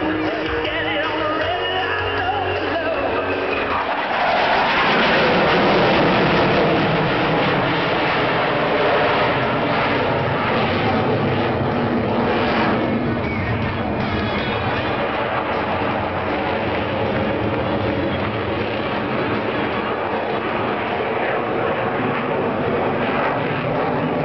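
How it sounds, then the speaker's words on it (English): Loud, continuous jet roar from an FA-18 Hornet making a slow-speed pass at an air show, surging as maximum afterburner is selected and the aircraft pitches up to the vertical, then rumbling steadily on. "Lieutenant Woodward will complete the slow-speed pass by selecting maximum afterburner and pitching the aircraft up to the vertical"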